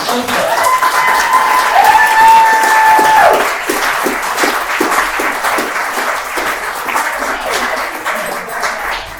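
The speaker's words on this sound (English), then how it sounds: "can we have a round of applause for the panel?" Loud audience applause for a panel at a Pride celebration event held with Stonewall, a dense roar of clapping with a brief musical tone early on, then easing into steadier, slightly softer clapping until the end.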